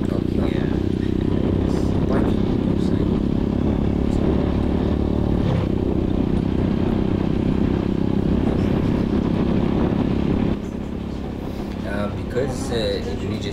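Dense Jakarta street traffic dominated by motorcycles rumbles in a steady low drone of engines, with a voice talking over it, before the roar drops slightly near the end.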